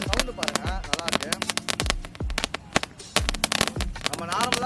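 Lollipop-style firecrackers burst in rapid, irregular crackling pops and sharp bangs, close and loud, while someone talks over them.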